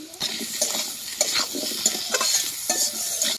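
Potatoes stir-fried with salt, turmeric and ginger-cumin paste in a pan, spatula scraping and stirring in steady repeated strokes over a bright constant sizzle, close and fairly loud, no talking.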